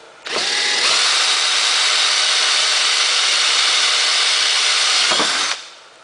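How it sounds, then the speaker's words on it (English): A power drill runs steadily with a hole saw for about five seconds, loud and close, a continuous grinding whine that starts and stops abruptly. "So I clamped my top and bottom together, and I'm drilling the two holes."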